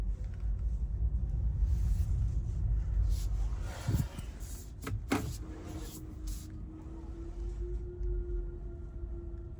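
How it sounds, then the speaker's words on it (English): A Tesla car rolls into a charging spot with a low rumble, then a few brief clicks and thumps partway through, followed by a faint steady electric whine. "I'm gonna pull one in here."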